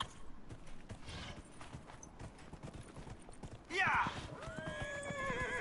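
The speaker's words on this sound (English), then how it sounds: "I have a horse. Ride the horse." Horse hooves clip-clop steadily through a Dragon Age Inquisition game scene, then a loud, close neigh rises sharply near the end before the galloping continues; someone speaks briefly over it.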